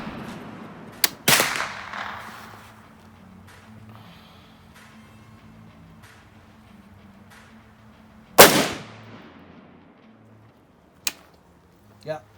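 Gunshots at an outdoor range from an AR-10 rifle and a Canik TP9 pistol, a few sharp loud cracks spread across the stretch with quiet gaps between, voices talking faintly in between.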